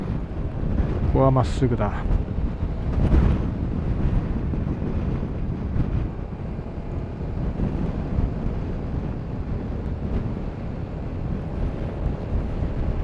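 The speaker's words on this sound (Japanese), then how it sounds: "おお、風が強いぞ。" Strong wind buffets the microphone while riding a Honda Forza 250cc scooter (MF17), a loud continuous roar with engine drone beneath and a rider speaking briefly over it.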